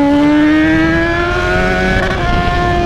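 A Yamaha XJ motorcycle engine revs hard and close, its loud tone climbing steadily in pitch as it winds up, then wavering near the end, with no speech.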